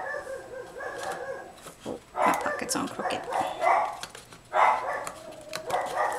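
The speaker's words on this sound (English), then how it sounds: "I am so sorry about those dogs." Dogs bark nearby in bursts while someone talks, the yaps and whimpers rising over her voice and dropping away between outbursts.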